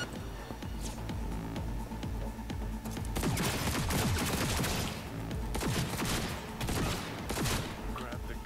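Rapid gunfire in the video game Cyberpunk 2077 crackles in dense, loud volleys that intensify midway and stay close and continuous throughout.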